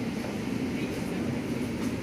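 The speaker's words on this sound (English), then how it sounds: "This is a Circle Line train via High Street Kensington and Paddington." A London Underground Circle Line train runs along the track between stations, giving a steady loud roar of rumble and hiss that lasts the whole time from inside the carriage.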